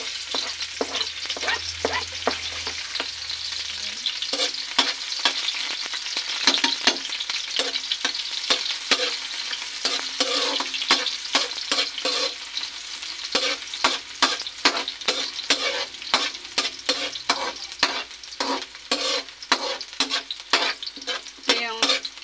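Garlic and onion sautéing together in a pan for pansit, a dense crackling sizzle with rapid, rhythmic scraping strokes of a utensil throughout, close and steady, no one speaking.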